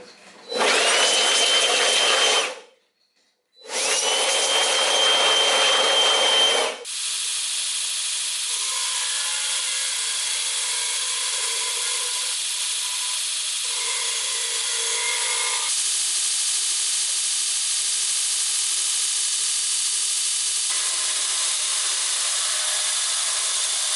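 Damascus steel knife blades are ground on a powered grinder: two loud bursts of harsh abrasive whine, split by a short gap, then a long steady grinding drone that shifts slightly in tone.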